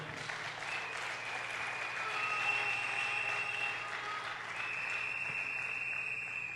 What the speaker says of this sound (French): Nous allons acclamer pour eux très très fort